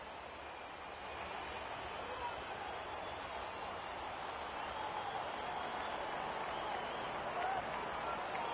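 A stadium crowd cheers and applauds during a Rugby League 26 match on PS5, a steady distant roar of massed voices and clapping held under continuous commentary.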